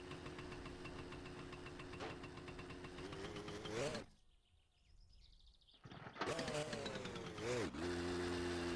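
A motorcycle engine in My Summer Car drones steadily with rising and falling pitch as the bike leans through a corner, cutting out briefly in the middle before revving back up loud and near.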